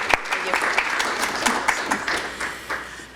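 An audience at the L.E.E.F. Awards 2023 ceremony claps steadily for about three seconds, a dense crowd of hands that tapers slightly at the end, with a voice speaking over it.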